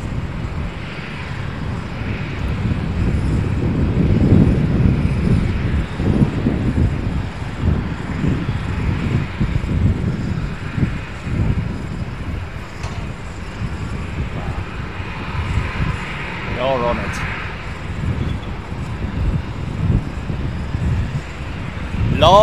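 Boeing 747 jets at Amsterdam Schiphol airport give off a steady, moderately loud engine roar and rumble, with wind buffeting the microphone and a faint airport background.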